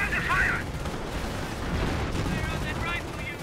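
Battle gunfire in Company of Heroes, a dense mix of rifle and machine-gun bursts with low booms and rumbling explosions, continuous and moderately loud under overlapping game voices.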